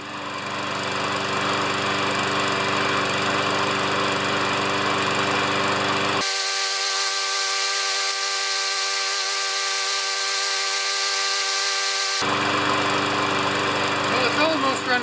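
Craftsman Platinum lawn mower engine running steadily with a loud, even drone and buzzing harmonics, close up, its tone shifting abruptly partway through; the mower is leaking oil.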